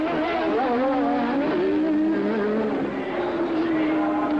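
Turbocharged Formula 1 cars, Nelson Piquet's BMW-powered car and René Arnoux's Ferrari, race at the 1983 Detroit Grand Prix street circuit, engines screaming loud and close with rising and falling gear-shift whines over steady background noise.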